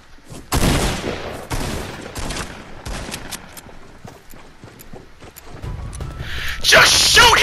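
Hunting rifle fire in a video game: several sharp, loud shots spaced irregularly across the scene, with a burst of hissing noise near the end.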